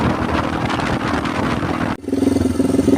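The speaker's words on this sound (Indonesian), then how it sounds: "suara motor kok gede sekali, ternyata ininya knalpotnya ini ada yang lepas itu teman-teman" Motorcycle with a loose, detached exhaust pipe, its engine booming loud and rough close by, then dropping into a pulsing, throbbing idle with a rattly edge.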